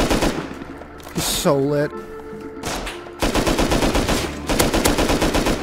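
Rifle gunfire in the survival video game Rust, with sharp shots and rapid automatic bursts that crack in several clusters, alternating with someone talking.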